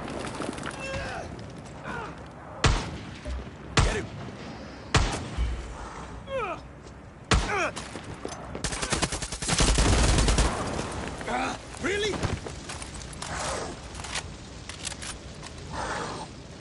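Gunfire in a video game: sharp, loud single shots spaced irregularly, then a short rapid burst near the middle, with mechanical clanks and quieter noises between.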